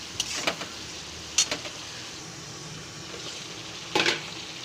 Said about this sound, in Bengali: এবার খুন্তি দিয়ে একটু নেড়ে চেড়ে নেব